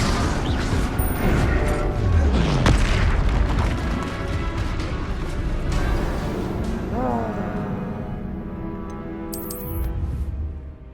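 A Bombarda spell blast in a Hogwarts video game booms amid continuous loud magical impacts and rumbling, with overlapping effects and shouted talk throughout.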